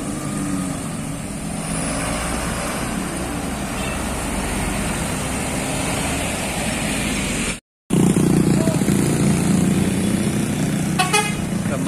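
A Damri Pariwisata medium tour bus pulls away at Galendo 2 in Ciamis, its engine a steady loud drone with a horn toot late on, among other buses and road traffic.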